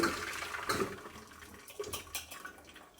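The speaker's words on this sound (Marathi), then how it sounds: "आता बंद करून याचं पूर्ण पाणी काढून टाकायचं आहे" Water from boiled bitter gourd splashes and trickles in uneven bursts as it is drained from a pot, fairly faint, with irregular gushes rather than a steady stream.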